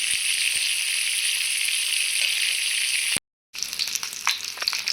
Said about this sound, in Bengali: তেল গরম হয়ে গেছে। তো দিয়ে দিচ্ছি মাছ।